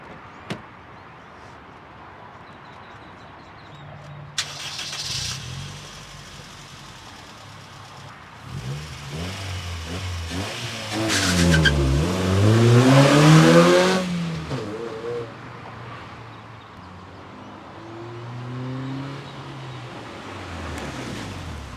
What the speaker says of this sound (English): So we'll do some braking to bed in the pads a little bit